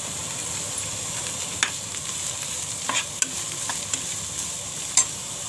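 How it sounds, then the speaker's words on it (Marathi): Onion and ginger frying in a pan, a steady soft sizzle with occasional scrapes and taps of a stirring spoon, close and without talk. "चांगला कांदा खरपूस भाजते"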